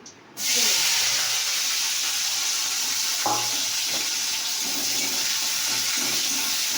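Chopped onion is rinsed under a running kitchen tap, a steady hissing splash of water that starts abruptly and continues evenly, with a couple of faint knocks partway through.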